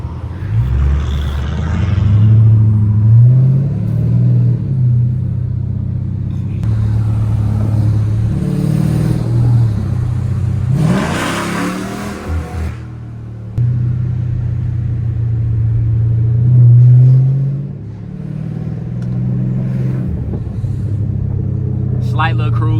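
A straight-piped Dodge Scat Pack rumbles loudly and steadily through downtown Charlotte streets, rising in a few revs with a sharp burst around the middle, while voices talk over the engine.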